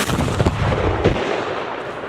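Cannon fired on command at Bastion Gardens in Rabat, Malta, one loud deep boom that rolls into a long fading rumble.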